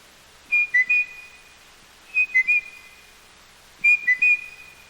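A tufted titmouse whistles short clear phrases of three quick notes, repeated three times with pauses between, crisp and close against a quiet background.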